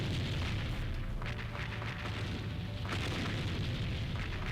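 A bomb explodes in a tank video game, a loud, continuous low rumbling blast with crackling debris that stays heavy and dense throughout.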